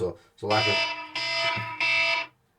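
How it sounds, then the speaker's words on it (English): An alarm sounds in three loud, harmonic bursts of roughly half a second each, with someone speaking over and between the tones. "sorry, that's my alarm."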